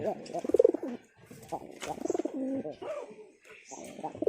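Pigeons coo in a backyard coop, soft throaty bursts recurring in short phrases through the clip with some faint chirps, fairly close, and no talk over them.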